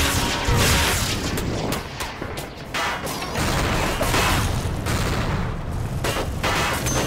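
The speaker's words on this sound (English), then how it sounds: "I thought that explosion then was it crashing." Explosions and rapid gunfire in the video game Timeshift form a dense, loud, continuous roar with repeated booms and crashes throughout.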